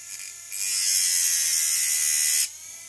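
A custom-made Dremel-style rotary tool runs during sharpening, giving a single steady, high-pitched motorized whine that starts abruptly, holds for about two seconds, then cuts off, with no talking.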